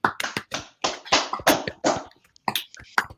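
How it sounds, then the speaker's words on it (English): Scattered, uneven handclaps from a small audience at a comedy-theater debate show, sharp separate claps in an irregular rhythm rather than a full ovation. "get a round of applause for everybody"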